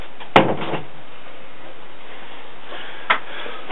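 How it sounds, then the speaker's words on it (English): A door being closed indoors at home: a sharp thump near the start, then a quieter knock about three seconds later, with a soft hiss between them. "I'm gonna close the door."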